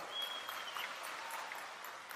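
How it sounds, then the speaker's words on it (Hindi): A crowd applauding at a political rally in Rajasthan, with sustained, dense, somewhat distant clapping holding steady throughout. "ताली जोरदार बजाओ, सब ताली बजाओ"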